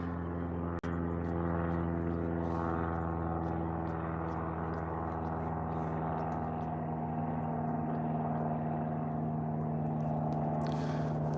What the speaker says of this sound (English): Hey, there's a plane.